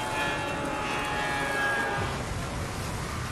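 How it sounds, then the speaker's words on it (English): A plane going down in the video game Bioshock gives a loud, steady roaring rumble of engine and wind noise that fills the whole clip without a break. "This plane is going down."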